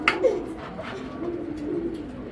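An old-breed Beji pigeon coos in a low, steady murmur, close by, with a brief sharper call near the start over a continuous background hum.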